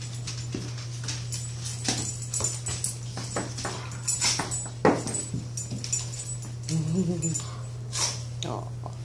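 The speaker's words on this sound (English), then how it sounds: "puppies. Puppies." Puppies whimper and yelp softly in short bursts at close range over a steady low hum, while a person speaks to them affectionately throughout.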